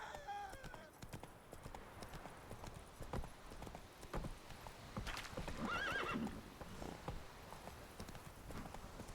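Roach, Geralt's horse in The Witcher 3, trotting with a steady run of hoof clip-clops, snorting and a clear whinny midway, set against outdoor game ambience with a voice briefly heard.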